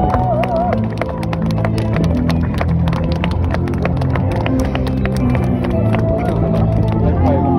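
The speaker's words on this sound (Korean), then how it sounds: "다시 한번 뜨거운 박수 부탁드립니다" An airshow crowd at ADEX 2023 in Seoul claps for the Black Eagles aerobatic team, a dense, sustained patter of applause close by that runs unbroken for several seconds.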